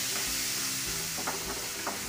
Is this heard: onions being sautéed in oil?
yes